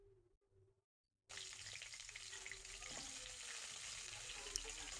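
Cauliflower and potato pieces drop into hot oil and fry with a loud, steady sizzle that starts abruptly after a quiet moment and continues densely to the end, with faint stirring.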